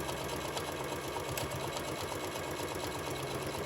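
A sewing machine stitches fabric for a book-shaped pillow, a quiet, close, continuous mechanical whir with a rapid steady needle rhythm and no talking.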